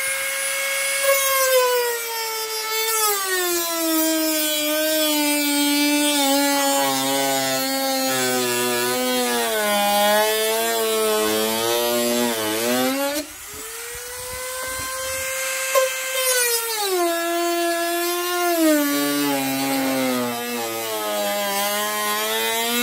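A saw cuts the rim off a plastic plant pot that will serve as a mold for a cement vase. It gives a loud, sustained whining drone whose pitch keeps rising and falling, with a brief break midway.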